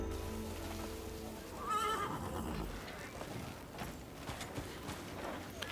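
A horse in the medieval action game Crimson Desert gives a sharp whinny over clip-clopping hooves and ambient game sound, with a faint voice in the background.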